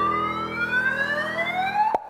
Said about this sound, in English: Next time you hear the common car alarm